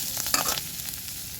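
Eggplant dropped into a hot pan with onion, a short burst of clattering and spatter followed by a softer steady sizzle, close and without talk.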